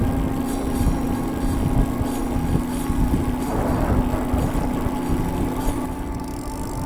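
Steady hum and whir from the rear hub of a Super73 S2 e-bike while it coasts on pedal assist, with a constant tonal drone, heavy wind rush over the microphone and road noise throughout.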